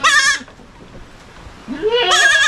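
Young goats on a farm bleat loudly and close, one wavering cry at the start and another near the end with a quiet pause between.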